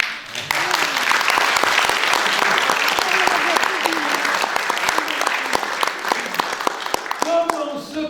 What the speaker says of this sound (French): J'ai oublié de la faire applaudir.